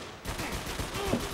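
Gunshots from the video game 50 Cent Bulletproof rattle in a quick, steady burst of rapid fire lasting just over a second, moderately loud.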